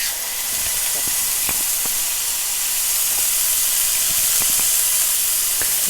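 A burger patty frying in a skillet with cooking oil, giving a loud, dense sizzle with scattered sharp pops and crackles throughout, close up and without speech.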